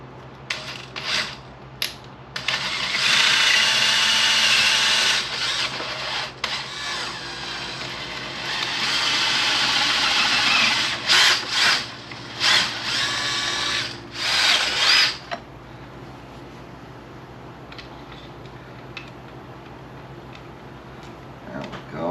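A power drill bores out a part of an Arrma Kraton 8S RC car, loud and close, in several long bursts with short pauses, then stops and leaves a quiet hum.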